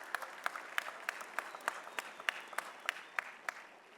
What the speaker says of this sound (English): I just give him a round of applause.